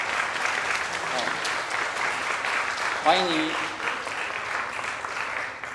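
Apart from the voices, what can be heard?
congregation applauding to welcome newcomers in church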